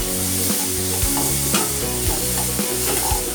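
Green chillies and tomato sizzle in a hot pan while a spoon stirs and scrapes at a steady, close rhythm, with the frying hiss running continuously under the strokes.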